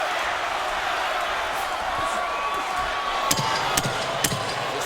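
Boxing arena crowd at a Terence Crawford versus Dierry Jean fight, a steady dense roar of many voices filling the hall with a few sharp thumps near the end.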